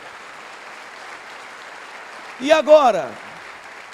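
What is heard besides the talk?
congregation applauding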